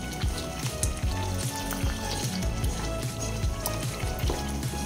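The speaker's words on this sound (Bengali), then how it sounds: "একটু ভালোভাবে নেড়ে নেব।" Mutton do pyaza frying and being stirred in a pan after kasuri methi is added, a steady close sizzle with scraping stirring strokes throughout, no talk.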